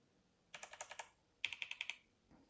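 Typing on a Keychron V1 Max keyboard with Gateron Banana switches: two quick bursts of about seven crisp keystrokes each, close but fairly quiet, with no voices.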